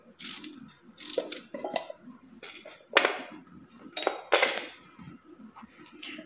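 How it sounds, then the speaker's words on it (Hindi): A knife chops an onion on a kitchen board, sharp irregular knocks and scrapes in separated bursts, close and fairly crisp, with no talking. "प्याज को हम काट लेंगे।"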